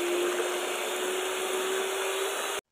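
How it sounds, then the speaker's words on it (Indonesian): An electric hand mixer whips seven egg whites at top speed, a steady loud whirring hum with a constant motor whine that runs unbroken before cutting off abruptly at the end. "Kemudian ini dimixer dengan kecepatan yang paling tinggi"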